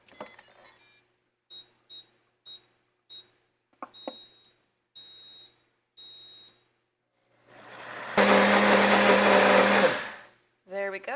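Food processor whirring through dog treat ingredients in one loud, continuous burst of about two seconds, preceded by a series of short, faint beeps and clicks.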